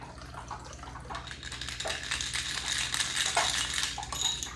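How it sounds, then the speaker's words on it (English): Cold cosmopolitan cocktail poured from a shaker into a glass, a faint clinking, splashing trickle with ice rattling, quiet and close with no speech. "And so then I just pour it in the glass."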